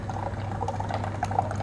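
An office coffee machine that grinds whole beans fresh pours black coffee into a cup, a short close trickle of liquid over a steady low mechanical hum.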